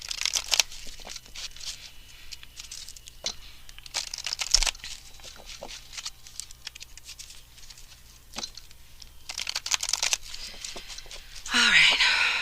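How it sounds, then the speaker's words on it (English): Tarot cards are shuffled by hand in bursts of crinkly riffling and soft patter, separated by quieter pauses over a low steady hum. "Having a little difficulty shuffling the cards here."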